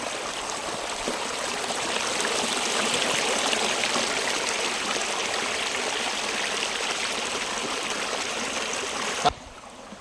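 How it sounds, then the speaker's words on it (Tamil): Dirty irrigation water runs through a farm channel with a steady, close rushing and trickling that continues evenly, then stops abruptly just before the end. "இது வந்து விவசாயத்துக்கு போகக்கூடிய தண்ணி"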